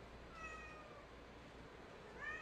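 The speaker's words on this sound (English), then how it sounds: "don't mind my cat, guys." A house cat meows quietly a couple of times, faint against a low indoor hum, with no talking over it.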